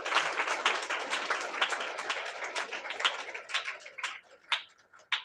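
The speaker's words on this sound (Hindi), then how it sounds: "ताली बजाओ परमेश्वर" A congregation claps at a Sunday church meeting: dense, fast, overlapping hand claps continue throughout, steady and fairly close, thinning into a few separate louder claps near the end.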